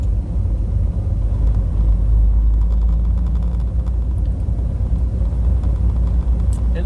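A car rolls through slow interstate traffic, giving a continuous low engine and road rumble heard from inside, steady and fairly loud with no talking.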